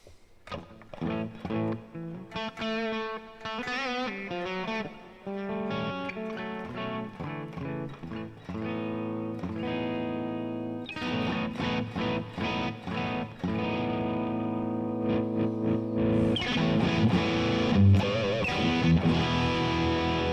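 A Gibson SG Modern electric guitar plays chords and riffs continuously through distortion effects, heavily overdriven, with a brighter, more aggressive section toward the end.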